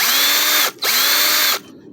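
A power tool spins loosening a bolt on a Craftsman 36-inch-cut lawn mower, loud and close: a steady high whine, a short pause near the middle, a second burst, then it cuts off.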